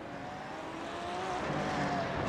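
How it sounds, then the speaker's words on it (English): GT3 race cars at Brands Hatch in a sim racing game, engines droning and building in a steady roar as cars crash, with no voice heard. "We got cars flipping and flying across the racetrack here"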